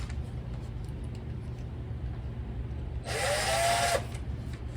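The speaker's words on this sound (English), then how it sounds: "drill a pilot hole" A power drill whirs for about a second drilling a small pilot hole in a boat transom, a brief high-pitched spin over steady background hum.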